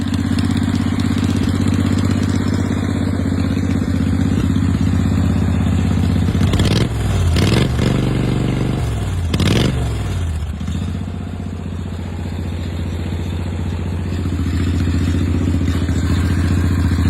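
A 2011 Yamaha V-Star motorcycle engine idles steadily and up close with a low rumbling drone, broken midway by a few louder revs or clattering bursts before settling back to idle.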